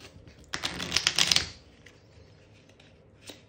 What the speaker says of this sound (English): They should I, yeah, let's do a shuffle.